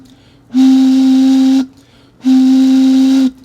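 Two steady, breathy hoots a second long, made by blowing across the mouth of a bottle partly filled with water, each a loud pure tone with airy hiss, separated by a brief pause.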